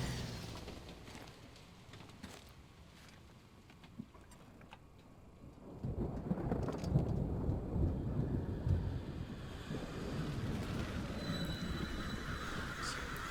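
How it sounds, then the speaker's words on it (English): Rain in the Death Stranding video game: a steady hiss sets in around six seconds after a quiet start and continues to the end, with deep rumbles mixed in. "That's rain, or acid rain, probably."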